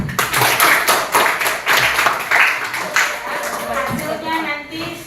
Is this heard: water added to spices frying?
no